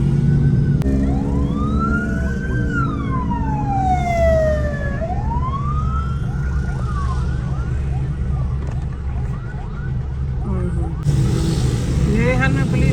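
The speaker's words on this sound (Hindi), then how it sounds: "प्राइवेट हॉस्पिटल की भी सारी एम्बुलेंसेस हैं।" Wailing ambulance sirens rise and fall over steady city traffic rumble in Islamabad after a suicide attack, with a second siren tone joining near the end; voices can be heard under the noise.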